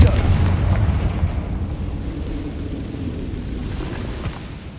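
Confringo fire-blast spell in Hogwarts Legacy, a sustained low rumbling boom that swells at once and rolls on steadily for several seconds before easing slightly, loud and close.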